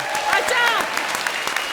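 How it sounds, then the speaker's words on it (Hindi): Studio audience applause on a comedy show, a steady wash of clapping with a voice speaking over it near the start. "और अब कंगना के लिए जोरदार तालियां।"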